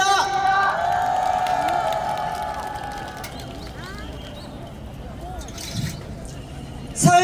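A rally crowd at a candlelight protest in Seoul claps and cheers, loud and continuous at first, then settling into a softer murmur with a brief swell near the end.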